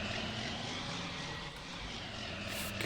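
Farming video game tractor pulling a field cultivator, a dense, steady engine drone with broad rumbling noise, continuous and fairly loud throughout.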